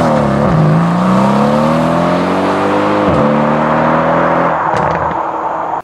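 A Mercedes C63 AMG with a performance exhaust and FI downpipes revs loudly and close by, its engine note rising and falling through several blips, then cutting off abruptly at the end.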